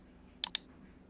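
A computer mouse clicks twice in quick succession, close and crisp, against a quiet background.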